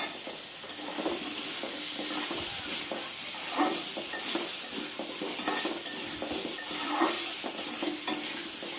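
Potatoes being stirred into a frying prawn curry in a pan, with steady sizzling throughout and repeated scraping and clinking of a spoon against the pan, close and alone with no talking.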